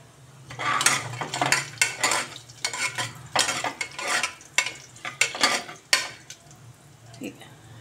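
Whole spices crackling and popping in hot oil in a pan, mixed with clinks and scrapes of a utensil stirring against metal, close and irregular.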